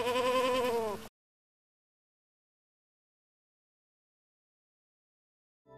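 A single goat's wavering, harmonic bleat sounds up close for about a second, then silence follows, with a faint trace of another sound at the very end.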